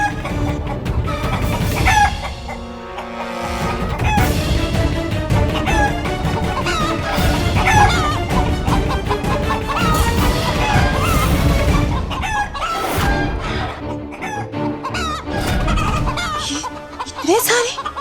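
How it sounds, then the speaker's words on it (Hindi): Roosters crow loudly over a busy chorus of clucking hens, a dense, close farmyard racket that continues throughout. "मुर्गे की आवाज"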